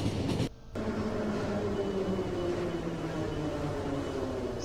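Train running in the video game The Final Station, a steady rumbling drone with a continuous low hum and faint tonal whine, brief dip near the start then constant and fairly loud, no talking.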